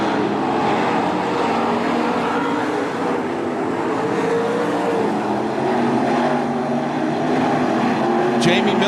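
Packs of 305 sprint cars race side by side on the Attica Raceway Park dirt oval, engines droning loud and continuous with a steady roar that swells slightly as cars pass.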